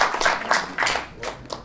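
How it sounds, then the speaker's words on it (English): A short burst of applause from a room audience, with several loud swells of clapping that fade quickly. "Starting with the round of applause, I like that"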